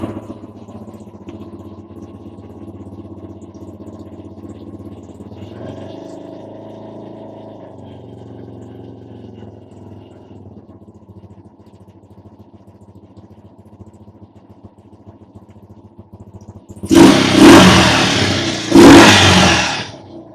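Bradford 250 motorcycle engine idles steadily and faintly with a low, even putter, then two loud blips stand out near the end.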